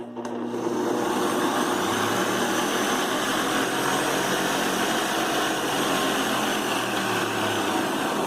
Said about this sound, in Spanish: Encendemos el generador y vamos a ver el efecto.